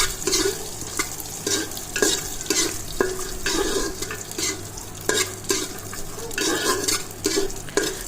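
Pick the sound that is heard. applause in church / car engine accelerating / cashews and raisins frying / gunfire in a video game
cashews and raisins frying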